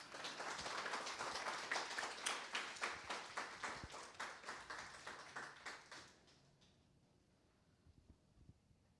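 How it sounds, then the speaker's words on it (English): Audience applause at a game accessibility event in Montréal, a dense burst of clapping for about six seconds that quickly fades to near silence with a few scattered claps at the end. "give him a nice round of applause"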